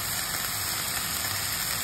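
Steady, even monsoon rain falls outside a home kitchen, a constant dense patter with no voices over it.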